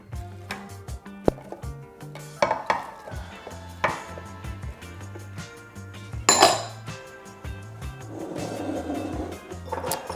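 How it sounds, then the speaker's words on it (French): Baby carrots, onion and shallot are set around a lamb shoulder in a dish, giving scattered clinks and knocks of vegetables against the cookware, close-up, over a low rhythmic background hum. "je vais mettre les petites carottes autour de mon épaule, ainsi que l'oignon et l'échalote"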